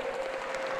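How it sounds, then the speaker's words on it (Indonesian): Audience applause for Prof. Abdul Mukti at a Muhammadiyah and NU forum in Solo, a brief dense patter of many hands with a faint steady hum running under it. "Kita kasih tepuk tangan untuk Prof. Abdul Mukti"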